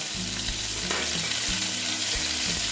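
Ground fennel, ginger and green chili fry in a pan for a fennel-and-pointed-gourd dish, giving a loud close sizzle with a low rhythmic knocking underneath, no voices.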